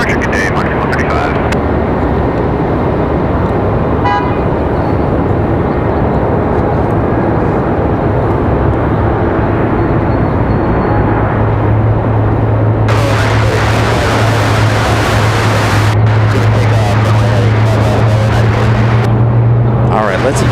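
Jet engine starting up on a Lufthansa airliner, a loud continuous roar with a rising whine that steadies into a droning tone, with a person talking over it.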